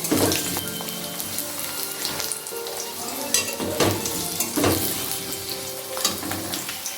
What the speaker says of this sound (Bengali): টুকরো করে কেটে রাখা আলু। আলুটা ভেজে নিচ্ছি।